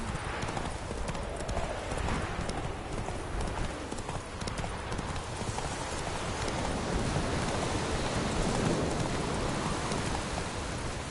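Roach, a horse in The Witcher video game, gallops with steady, rapid clip-clop hoofbeats that hold loud and continuous throughout, with a faint wash of rain underneath.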